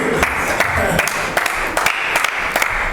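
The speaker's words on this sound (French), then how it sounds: "On peut applaudir, mesdames et messieurs." An audience at a church gathering applauds with scattered, distinct claps over a crowd murmur, the sharp hand strikes coming irregularly through three seconds at close range.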